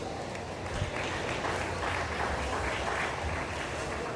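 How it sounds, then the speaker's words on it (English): Crowd applause at a beef cattle show ring, a continuous even wash of clapping from many people, somewhat distant and steady throughout, with faint murmuring beneath. "Let's give him a round of applause."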